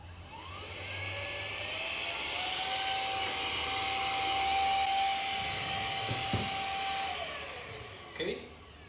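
A KOPIDOE compressed air duster running in vacuum mode gives a loud, steady motor whine with airy rushing that spins up, holds for about six seconds and winds down, followed by a brief plastic clatter.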